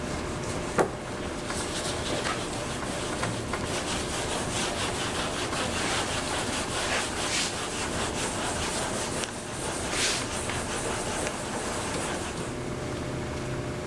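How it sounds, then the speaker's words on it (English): Steady, continuous wet sanding over a primed R023 Super Stock hood for a 1967 Plymouth Belvedere, a close, even rasping rub that carries on without a break. "Wet sand."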